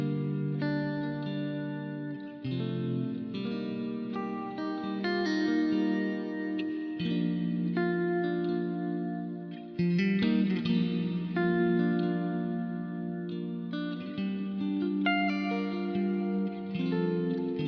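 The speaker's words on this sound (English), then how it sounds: "I've got a hall reverb going into a room reverb. I've added some modulation" Boss RV-500 dual reverb, a hall reverb feeding a room reverb with modulation and a high effect level, played on a guitar. The sustained chords shimmer and wash together in long, lush tails, with no voices.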